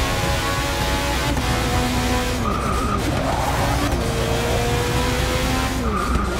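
A race car in Forza Motorsport 6 career mode screams through a lap, its engine whine rising and dropping with gear shifts while tires squeal through corners, loud and close the whole time.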